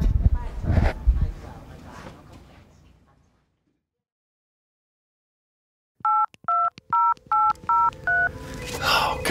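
A telephone is dialed with a run of six or seven crisp touch-tone beeps in steady rhythm, following a stretch of rumbling noise and a pause of near silence, with a faint tone trailing after.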